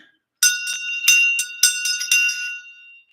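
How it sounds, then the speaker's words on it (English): A shang bell rings during a Chod meditation, a run of bright metallic strikes with shimmering overtones in an uneven cluster that fades into a clean ringing tail. "the shang bell"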